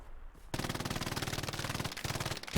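Sustained machine gun fire in the video game Hell Let Loose, a loud, rapid continuous burst that starts abruptly after a brief quiet moment and runs without pause, with a short break near the end.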